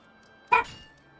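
A dog named Lily gives a single short, sharp bark close by, which fades quickly into a quiet background hum.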